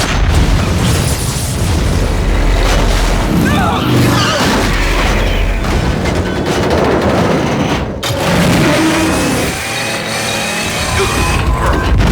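Gunfire and explosions in the video game Metal Gear Solid 3 on PS2, loud continuous bursts of shots and booms layered with game music for over twelve seconds, with a brief dip near the middle.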